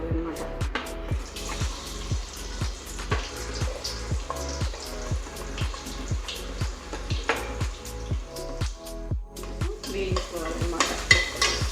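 Onions frying in hot oil for a village-style fish curry: a steady sizzle punctuated by brisk, evenly spaced stirring strokes roughly twice a second, close and continuous.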